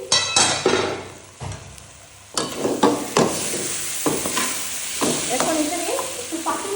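Mung dal bhuna sizzles in a pan as it is stirred, with repeated scraping clicks and clatters over a steady crackling fry, loud and close.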